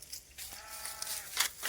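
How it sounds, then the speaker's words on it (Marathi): Goats standing in the shade under a tree give a few faint, distant bleats over quiet outdoor background noise. "या बकरी वळता वळता वरून आता झाडाखाली उभं आहे"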